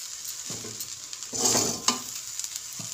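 A spoon stirs chicken rice in a hot pan over a steady frying hiss, with a few soft scraping pushes and one sharper clink.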